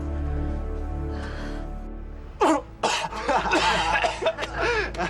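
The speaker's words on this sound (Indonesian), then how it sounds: "Batuk." A person gives a short throat clearing and then a quick run of several harsh, close coughs, with music faintly underneath.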